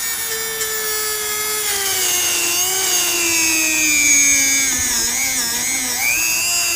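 A Dremel rotary tool cuts through metal with a loud, steady high-pitched whine whose pitch slowly drifts as it works through the piece, throwing sparks while swapping a Country Coach heat exchanger blower motor.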